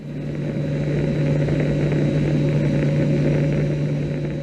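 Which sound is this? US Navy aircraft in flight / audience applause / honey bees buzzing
US Navy aircraft in flight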